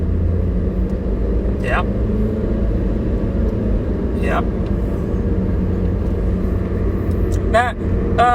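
Steady low cabin rumble of a Honda BR-V family car driving in sport mode, constant road and engine drone close up, with a few brief voice sounds and a short spoken word over it.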